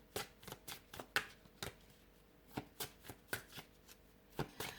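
Tarot cards are shuffled by hand in a quiet room, giving a string of soft, crisp riffling slaps at an irregular rhythm, close and faint.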